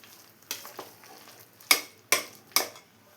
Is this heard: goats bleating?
no